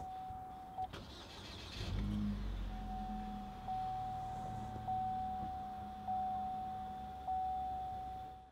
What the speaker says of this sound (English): So to start the vehicle, you take your switchblade key and go ahead and, pretty traditionally,